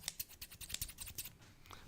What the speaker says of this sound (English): Those are scissors, James.